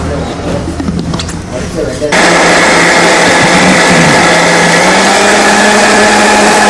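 A kitchen mixer grinder blends herbs with bore water, starting with a quieter rumble and then roaring into a loud, steady, high-speed whir that runs on to the end.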